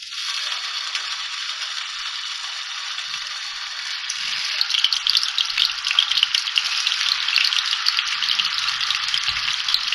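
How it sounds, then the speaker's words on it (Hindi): Kebabs shallow frying in a quarter cup of hot oil give a steady close hiss that swells louder and more crackly midway as pieces hit the pan, continuing with dense sizzling and no talking. "1/4 कप मैंने ऑयल लिया है, इसको शैलो फ्राई करूँगी मैं। अब मैं इसमें कबाब डालती हूँ।"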